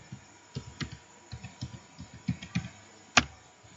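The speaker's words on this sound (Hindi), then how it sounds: "तो मेरे जो पासवर्ड है मैं उन्हें एंटर कर देता हूँ।" Computer keyboard keys tapped in a quick irregular series of close clicks while a password is entered, ending with one sharper keystroke.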